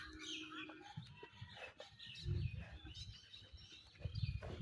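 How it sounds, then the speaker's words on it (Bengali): Village chickens clucking and chirping in the early morning countryside, scattered short calls at low volume over soft ambient rustle and a few dull knocks. "গ্রাম অঞ্চলে মুরগি"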